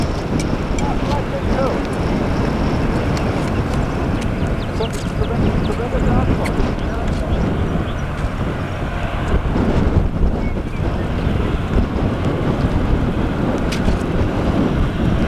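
Strong thunderstorm outflow wind near a small funnel in Laramie County, Wyoming, roars steadily and loudly against the microphone, buffeting continuously throughout with a few gusty peaks.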